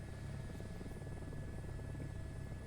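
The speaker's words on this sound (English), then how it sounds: "we finally got this helicopter off the ground" A helicopter flying in Microsoft Flight Simulator 2024 near Rotorua, New Zealand, a steady rapid rotor chop over a low engine buzz and thin tonal whine, quiet and continuous.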